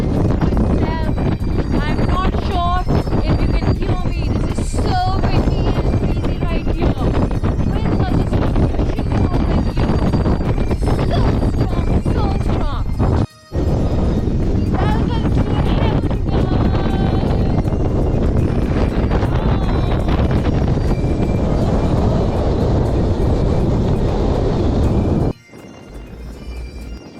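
Strong gusting wind buffets the microphone at Neist Point, the westerly headland on the Isle of Skye, a loud, sustained roar with brief dropouts. A voice talks intermittently underneath.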